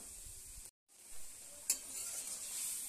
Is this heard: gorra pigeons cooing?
no